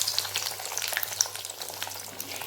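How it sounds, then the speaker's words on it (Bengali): Pieces of boal fish frying in plenty of hot refined oil, giving a steady crackling sizzle with dense spitting pops throughout, close and fairly loud, no voices. "এখন আমি এটার মধ্যে একটা একটা করে ফিশ ফ্রাইগুলো ছেড়ে দেব।"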